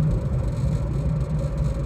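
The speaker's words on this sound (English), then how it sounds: "sit for a couple of moments with the engine running," A car engine idling while parked in a home driveway, a steady low rumble and whir that holds evenly and fairly loud, with no voices.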